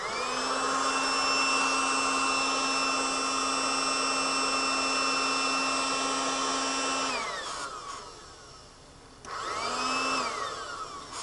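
Breeze powered air helmet fan blowing air during mowing, a steady whining motor hum with airflow rush, close and constant, briefly cutting off and then spinning back up near the end.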